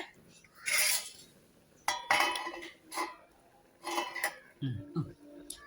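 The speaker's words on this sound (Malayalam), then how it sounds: "ഞാനത് മൂടി വെക്കട്ടെ" A lid set onto a cooking pot in a home kitchen, giving a few clattering metallic clinks and knocks spread over several seconds, close and moderately loud, with no clear speech.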